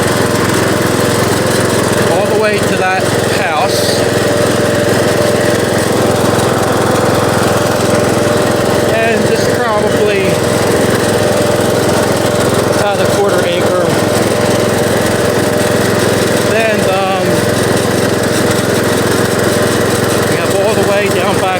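A Bolens lawn mower engine drones loudly and steadily while mowing a field, a continuous rough motor roar with periodic bumps and rattles, with no voice heard over it.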